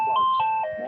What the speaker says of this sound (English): Phone call. I have to take this call.